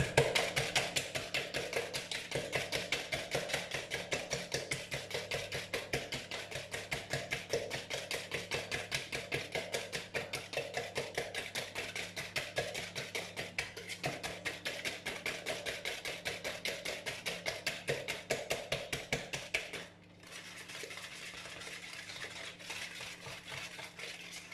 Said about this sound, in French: j'utilise tout simplement mon fouet plat métallique qui est très bien aussi